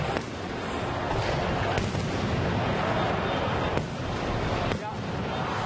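Fireworks go off over a stadium celebration in Kadıköy, a rapid run of booms and cracks layered over a steady roar of the crowd and distant bursts, loud and continuous, with a few sharper blasts standing out.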